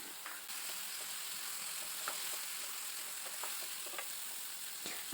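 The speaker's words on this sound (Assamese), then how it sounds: "আলুকেইডোখৰ ফ্ৰাই কৰাৰ পাছতে মই ইয়াত মাংসখিনিও দি দিম" Potatoes and goat mutton with cumin, turmeric, coriander and red chili powder frying for a curry, a steady soft sizzle throughout with occasional faint stirring clicks, no voices.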